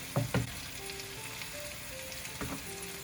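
Salmon fillet frying skin side down in a pan over low heat, a steady soft sizzle with a few louder crackles and pops, close by and with no voices.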